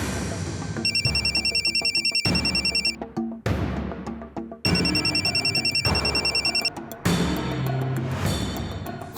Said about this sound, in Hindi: फोन नहीं उठा रही है।